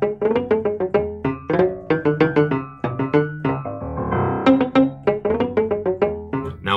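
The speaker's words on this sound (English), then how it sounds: "And then the towel sound." A plucked string instrument with a towel muting its strings, giving short, dry, damped notes in a quick, rhythmic pattern played up close with no talking.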